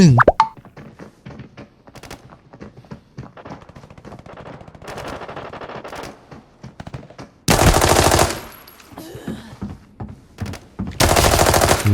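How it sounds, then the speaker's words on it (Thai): Rapid bursts of automatic gunfire crackle in the video game Arena Breakout, scattered shots first, then loud sustained volleys with short pauses between them. "กระสุนลั่น ยิงไปเยอะแล้ว"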